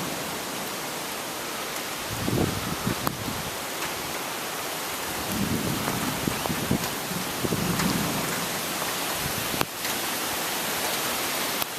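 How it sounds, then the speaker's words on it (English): Rain sets in during a big wind storm, a steady broadband hiss of falling drops with gusty low rumbles and a few louder swells, no voices. "Yeah, it's starting to rain."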